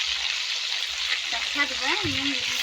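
Onions frying in a pan with salt added for chicken biryani, a steady broadband sizzle with a few light stirring scrapes, close by, with a brief voice-like tone partway through.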